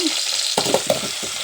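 Potatoes sizzle as they go into a pan for brown rice khichdi, a steady broadband fry hiss with a few sharper bursts and stirring clatters midway, close and alone.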